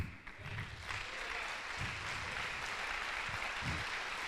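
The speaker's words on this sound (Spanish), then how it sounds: "démosle un gran aplauso al Espíritu Santo" A church congregation applauds during a sermon seminar, a sustained, fairly even wash of many hands clapping, heard from across the room with faint low murmurs beneath.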